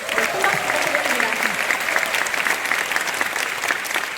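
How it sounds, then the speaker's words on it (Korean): Sustained audience applause fills a hall during a network marketing business event, a dense steady clatter of many hands lasting several seconds with a faint voice under it. "큰 박수 부탁드립니다"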